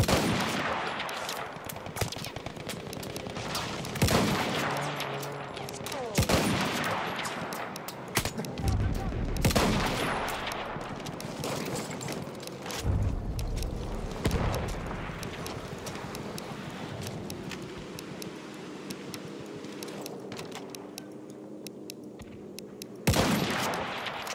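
Battlefield 1 gunfire, with repeated sharp shots and bursts of rapid fire scattered across a noisy battlefield, some near and loud, others fainter, with wind, hoof-like clatter and occasional voices mixed in.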